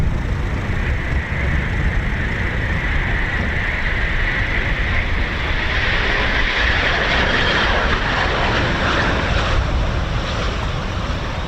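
Eurofighter Typhoon FGR4 jet engine at RAF Coningsby, a loud sustained roar with a rising hiss that swells as the aircraft passes, no talk.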